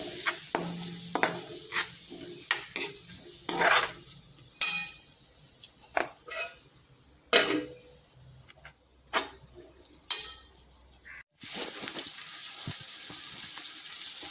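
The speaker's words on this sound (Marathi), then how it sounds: "आतमध्ये टॅमॅटो आपल्याला मऊ होईपर्यंत असा परतायचा आहे" Tomatoes being stirred and sautéed in a pan for a Marathi dry green bean dish make intermittent close spatula scrapes and clicks over a soft, steady sizzle, with no talking.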